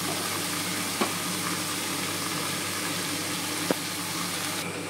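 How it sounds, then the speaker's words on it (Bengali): Ash gourd fries in a covered pan with a constant, loud sizzling hiss, broken by two faint clicks. "তো এটাকে আমি একটু ভাজা ভাজা হতে দেবো, তারপরে নাড়বো।"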